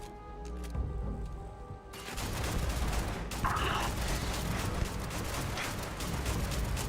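Rapid gunfire in Starfield strikes the player, heard as dense bursts of shots and mechanical clatter that start abruptly after a quieter opening and keep going loudly to the end.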